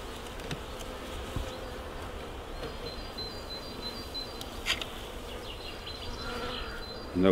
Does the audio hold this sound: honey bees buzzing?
yes